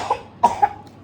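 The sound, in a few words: child coughing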